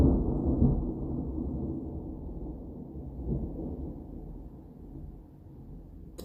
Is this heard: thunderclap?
yes